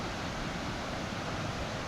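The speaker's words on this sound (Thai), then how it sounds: "น้ำตกปูเตวค่ะหรือน้ำตกห้วยหลวงอำเภอนาจหลวงค่ะ" The Huai Luang waterfall in Na Chaluai district rushes steadily, a broad, even roar of falling water heard nearby with no voices.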